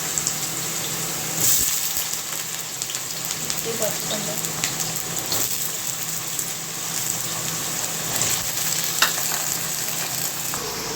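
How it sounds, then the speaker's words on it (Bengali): Small chopped potatoes fry in hot oil, a steady broadband sizzle that runs the whole time with a few scattered crackles and a brief louder burst early on. The sound is close and even, with no voices. "তেলটা ভালো করে গরম হয়ে গেছে, এবারে কেটে রাখা আলুগুলো ছোটো ছোটো করে দিয়ে দেওয়া হচ্ছে"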